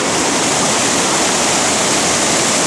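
The Manitou River in Minnesota roars at high flow along the Superior Hiking Trail, a loud, close and unbroken wash of rushing water with no voices.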